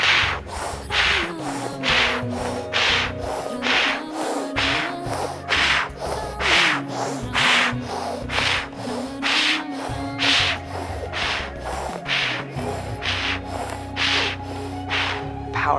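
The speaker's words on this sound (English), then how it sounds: "we're gonna do breath of fire" Breath of fire breathing through a rolled tongue: rapid, forceful rhythmic exhalations, about two per second, close and loud, each a sharp hissing puff repeating steadily throughout.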